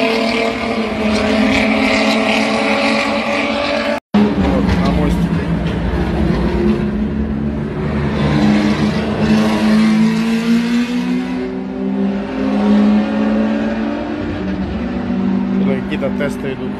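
Race cars including Lamborghini, McLaren and formula cars test at Yas Marina circuit, their engines droning and revving loudly throughout while someone talks over the noise.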